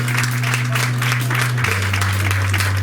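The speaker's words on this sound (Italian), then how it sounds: "E accogliamo quindi con un caloroso applauso la nostra presentatrice della serata" Audience applause greets the evening's presenter at the Miss Blumare Veneto beauty pageant selection at a café, a steady wash of clapping with a low electronic hum beneath it and no speech over it.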